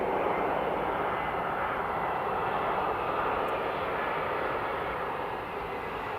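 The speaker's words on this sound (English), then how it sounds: "there's the EasyJet just landing." EasyJet Airbus A321neo landing at Edinburgh Airport, a broad steady roar of jet engines holding at a constant loud level throughout and fading slightly at the end, with no voices.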